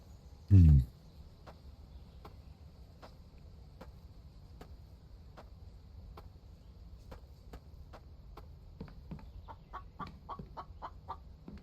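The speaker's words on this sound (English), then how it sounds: "Now cluck, cluck, cluck." A chicken clucks in a video game, giving faint, short, evenly spaced clucks that quicken toward the end, after one brief low thump near the start.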